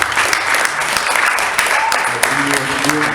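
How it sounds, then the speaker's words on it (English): A conference audience claps steadily throughout, a dense, sustained round of applause filling the room, with a few voices faintly audible beneath it near the end. "So we should give you now another round of applause"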